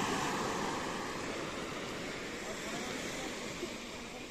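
Sea surf rolling onto a sandy beach with a small pebble strip in Belek, Turkey, in winter, a steady broad wash of waves with wind, fairly near and continuous.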